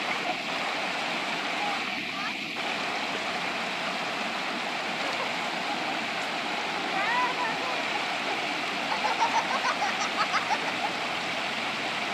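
A waterfall that children are playing in rushes with a steady, full roar of falling water across the whole stretch, with faint voices and splashes mixed in.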